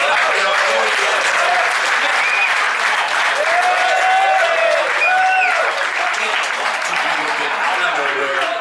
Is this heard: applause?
yes